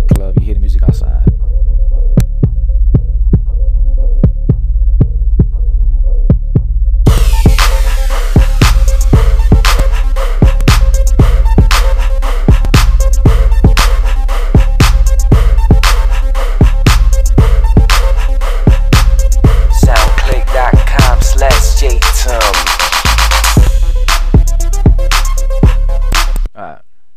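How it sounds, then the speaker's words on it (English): Beat-based music sent through a multi-band compressor effect to sound like a club heard from outside, thumping muffled kicks and a low hum at first, then opening into brighter, fuller music with sharp percussive hits that runs steadily to the end. "as I play this, I got this multi-band compressor effect on here. It's like you in the, it's a club type of thing."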